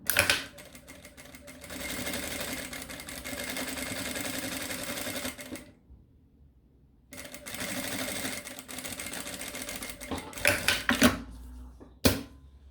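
A sewing machine runs a plain line of stitching to hold twill tape onto fabric for a small backpack, with rapid mechanical chatter in long bursts, a brief silent pause midway, then a few short, sharp runs near the end.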